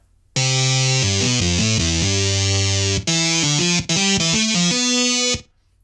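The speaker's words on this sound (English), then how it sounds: "So right now it just has the distortion and a flanger." Distorted electronic keyboard tones play a rapid stepping melody with a sweeping, swooshing flanger effect, loud and continuous, with two brief cutoffs.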